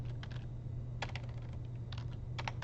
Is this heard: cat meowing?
no